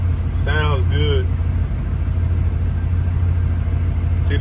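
A 1969 Chevelle engine fitted with Holley Sniper EFI idles steadily, a deep continuous rumble close by, with a voice briefly speaking over it early on.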